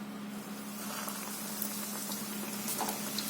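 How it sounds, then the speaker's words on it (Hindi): Bread-crumb-coated potato donuts deep-frying in hot oil in a kadai produce a constant fine bubbling sizzle, soft and even from start to finish, with no talking. "कढ़ाई में हमने तेल को गरम कर लिया है। अब इसमें डालेंगे ये डोनट।"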